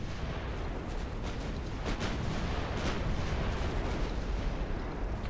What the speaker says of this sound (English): Alright, just fire everything into that battleship